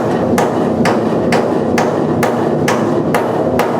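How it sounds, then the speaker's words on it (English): Sharp metallic hammer taps on a sheet metal patch strike in a steady, evenly spaced rhythm, eight or nine blows, loud and close, during cab corner rust repair on an 86 Chevy C-10. "You see the hammer motion?"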